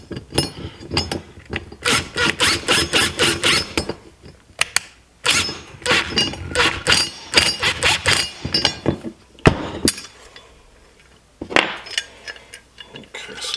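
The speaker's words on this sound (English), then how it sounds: "Get the Allen key on the back here." Allen key turning against a nut while installing a dead pedal in a Jeep Gladiator Rubicon: close bursts of quick metallic ratcheting clicks and clinks in uneven runs, separated by short pauses and handling noises.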